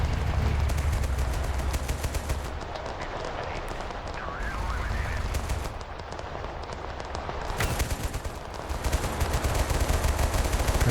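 Gunfire aimed at infantry in the war game Total Conflict: Resistance, a dense, continuous crackle of small-arms and heavier fire over a noisy battlefield mix, loud throughout with brief lulls.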